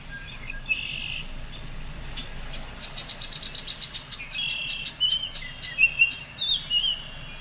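A Baltimore oriole sings in spring woods near buildings. Its clear whistled phrases come in a repeating series, getting louder over steady background hiss and other faint bird chatter.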